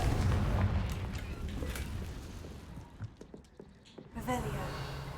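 Confringo blasting spell going off in Hogwarts Legacy, a loud booming burst at the start that rumbles and fades, followed by quieter magical crackles and a second swell near the end.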